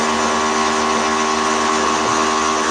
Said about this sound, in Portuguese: Vocês ouviram um barulho de uma furadeira aqui no meu apartamento de cima?